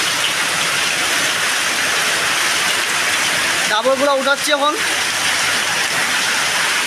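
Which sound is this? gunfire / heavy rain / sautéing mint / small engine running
heavy rain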